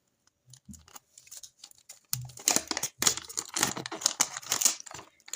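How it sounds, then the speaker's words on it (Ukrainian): Crinkly paper rustling and tearing as a small packet is opened, quiet at first, then busier bursts of crackling close up. "давайте ось такий ось пакетик відкриємо"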